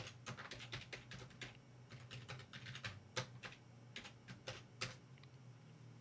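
Someone types a password on a computer keyboard at a Linux MATE desktop, producing soft, quick keystroke clicks in irregular bursts over a low steady hum, with no talking.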